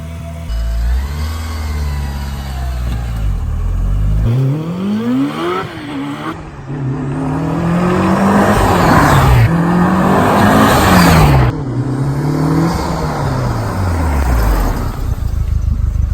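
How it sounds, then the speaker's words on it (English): A Mitsubishi Lancer Evo IV rally car on a test drive revs hard through repeated gear climbs, the engine pitch rising and dropping with each shift, loud and close from inside the car. "Taking out the car for a test quick drive."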